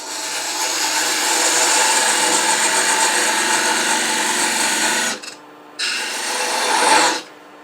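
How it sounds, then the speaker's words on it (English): A 1/8 inch parting tool cuts into spinning wood on a lathe, making a loud, continuous abrasive scraping for about five seconds that drops out briefly and then resumes in a short second burst. "And now let's go ahead and take a parting cut. I'm going to use an 1/8 inch parting tool for this."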